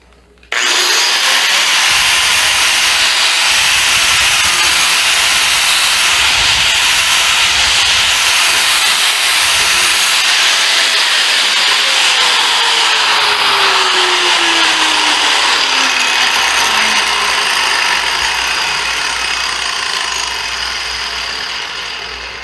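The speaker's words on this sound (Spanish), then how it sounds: "aquí vamos a utilizar una lijadora porque la cantidad de polvo que despide es mucho menor" An electric sander fitted with 60–80 grit paper grinds across a concrete surface, a steady loud hiss-like whir that runs unbroken for over twenty seconds and slowly tapers.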